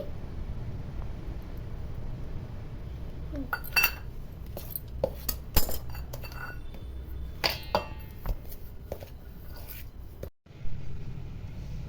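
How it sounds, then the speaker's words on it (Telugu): A spoon clinks and scrapes against a bowl while melted butter is stirred into cake batter for a cashew nut cake, irregular light taps and ringing knocks over a quiet background hum. "కరిగిన వెన్న అండి వేసి బాగా కలుపుకోవాలి"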